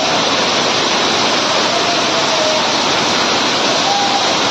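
Rainwater pours through a leaking roof at Cherlapally railway station in Hyderabad, a loud, unbroken rushing roar like a waterfall that holds steady throughout.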